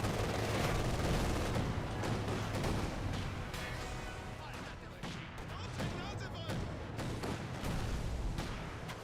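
Battlefield gunfire and a rifle grenade blast from the WWII strategy game Company of Heroes 2 rumble continuously as loud, dense rattles and booms, with a commentator talking over the combat.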